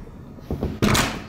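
A door with a digital lock in a luxury mansion opens with a short electronic lock sound, followed by a solid thunk as the latch releases and the door swings.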